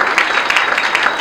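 An audience claps together to welcome a music team onto a stage, a dense, fairly loud burst of applause that continues steadily through the whole short stretch.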